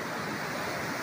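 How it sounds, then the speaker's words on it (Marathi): Heavy monsoon rain and a brimming, overflowing stream in a Konkan village form a dense, continuous roar, loud and unbroken throughout. "पाऊस जोरात चालू आहे बघा. हा ओढा पूर्ण भरून वाहतोय."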